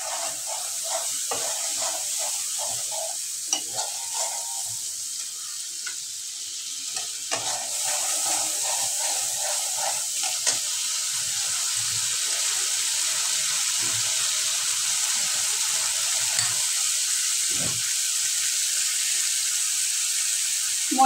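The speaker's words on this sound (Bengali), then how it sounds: "আমি মশলাটা ভালো করে কষিয়ে নেব। একটু জল দিয়ে দিচ্ছি কষানোর জন্য।" A spice paste sizzles and hisses steadily in a pan as it is sautéed with a little water for a jackfruit and shrimp dish, with scattered scraping stirs and clinks over the continuous frying.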